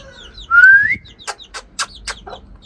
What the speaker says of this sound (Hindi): ये इसकी मदर है, 2 कबूतर बाहर हैं, उनको भी अंदर करते हैं।